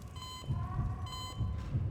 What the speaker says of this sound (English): What's the beeping mean?